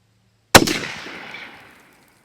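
A single rifle shot fired outdoors, one sharp loud crack after brief quiet, followed by a rolling echo that fades over about a second.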